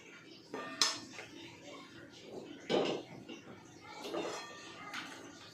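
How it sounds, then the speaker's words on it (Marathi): A metal kadhai set down on a gas stove in a home kitchen, giving a few separate clanks and scrapes of cookware at moderate volume, with a quiet voice in the background. "मी कढई गॅसवर ठेवते"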